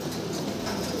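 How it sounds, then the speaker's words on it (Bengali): Fancy pigeons at a pigeon farm, with leg-ringed birds, coo in a steady, dense flock chorus close by, the murmur continuous throughout. "খুবই অ্যাক্টিভ কবুতরগুলো"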